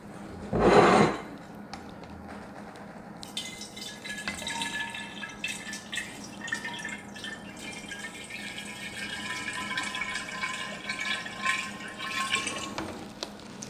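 Water pouring into a glass carboy while making traditional mead: a thump of handling first, then a steady splashing, gurgling fill with clinks, close and continuous.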